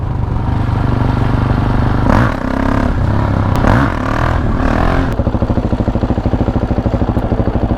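A motorcycle is ridden on a wheelie along a road, its engine droning loud and close with a clattering scrape midway, then settling into a steady rapid pulsing rhythm.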